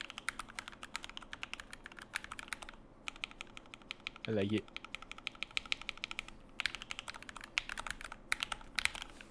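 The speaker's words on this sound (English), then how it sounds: "how does this keyboard sound?" Clicky keystrokes on a custom-built computer keyboard, typed in rapid steady bursts with brief pauses, close and fairly loud, while a voice briefly speaks over the typing.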